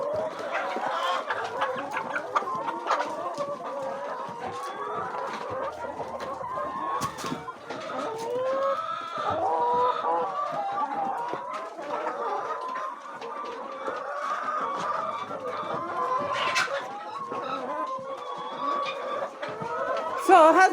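Backyard egg-laying chickens cluck repeatedly at close range, a busy, continuous run of clucks and squawks lasting the whole stretch, with brief human speech in places.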